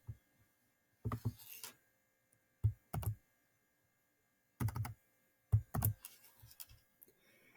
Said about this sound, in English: So we type that in